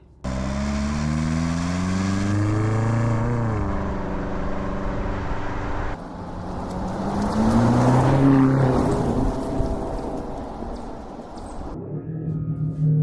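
Range Rover Sport SV's 4.4-litre V8 revs up and down in rising and falling sweeps, a loud engine note with a brief drop in the middle before climbing again, then easing off at the end.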